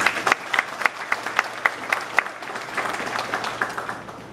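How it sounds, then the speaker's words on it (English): An audience applauds at a Trinidad and Tobago event on constitution and local government reform, starting with sharp rhythmic unison claps near the front, then thinning into a looser, softer patter that fades out. "Please give them a round of applause."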